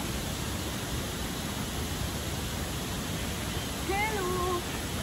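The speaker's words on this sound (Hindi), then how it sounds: "ये वाटरफॉल बहुत अच्छा है" A waterfall near Rishikesh roars as a loud, continuous broadband rush close by, steady throughout, with a brief voice rising faintly above it near the end.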